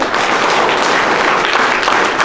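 Loud, dense applause for teachers at a village junior high school event, a steady burst of many hands clapping with no pause.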